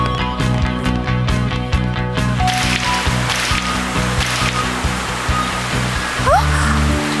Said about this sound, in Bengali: এক্ষুনি বৃষ্টি শুরু হবে।